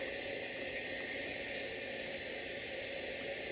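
FedEx Express McDonnell Douglas MD-11F jet engines at takeoff thrust in the SimplePlanes game, a steady, loud, unbroken roar with no voices.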